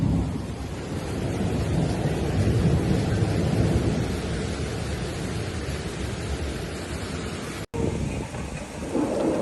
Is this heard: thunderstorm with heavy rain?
yes